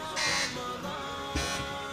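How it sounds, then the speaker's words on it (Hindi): Quiz show buzzers ring out in two short electronic bursts about a second apart as contestants on a Ramzan special test them, loud and close against a low musical hum. "आप लोग बजर चेक कर लें अपने"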